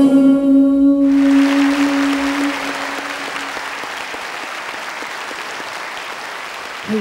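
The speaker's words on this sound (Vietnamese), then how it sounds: "cảm ơn những tiếng vỗ tay của quý vị" Live bolero concert audience bursting into loud, dense applause as a sung note ends, the clapping filling the hall and slowly easing off toward the close.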